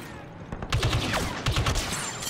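Gunfire from an assault-class gun in Star Wars Battlefront 2, fired as two quick three-round bursts that crack loudly and close over steady background game noise.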